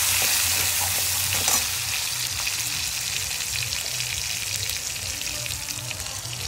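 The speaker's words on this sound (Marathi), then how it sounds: "हिरवी मिरची, लसूण, टोमॅटो टाकायचा, छान याला परतून घ्यायचा मऊ होईपर्यंत" Green chilies, garlic and tomato sauté in a hot pan, giving a steady, fairly loud sizzle and crackle throughout, with light stirring noises and a brief clink early on.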